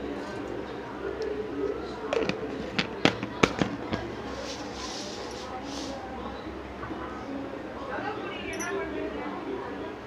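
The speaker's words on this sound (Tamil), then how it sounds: "கடுகு வெடிக்கட்டும்." Mustard seeds splutter in hot groundnut oil, a scattering of sharp pops clustered near the start over a low background sizzle.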